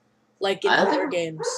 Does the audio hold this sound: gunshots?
no